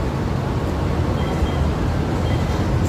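An MRT train in Quezon City rumbles loudly and steadily, a dense continuous roar of wheels and carriage noise filling the space with no pauses.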